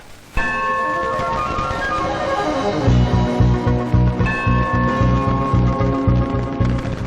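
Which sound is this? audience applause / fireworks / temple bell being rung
temple bell being rung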